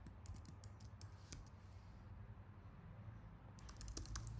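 Soft, quick keystrokes on a computer keyboard while a password is entered to log into a Linux server over SSH, in two short bursts separated by a pause, quiet and close with no talking.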